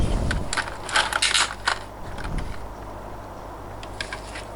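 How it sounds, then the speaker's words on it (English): Packaging for a Hornby LNER Raven Q6 Class model train being opened, close crinkling, scraping and rustling of cardboard and plastic that is loud and busy at first, then settles into quieter handling. "And then we open up the packaging"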